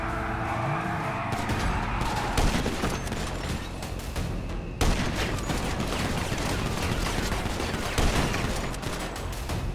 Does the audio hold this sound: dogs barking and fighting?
no